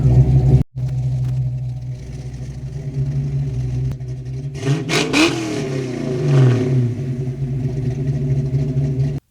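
A Fox Body Mustang with FlowMaster 40 series mufflers idles with a deep, loud rumble, then revs sharply twice mid-clip, the exhaust swelling to a throaty roar before dropping back to a steady burble.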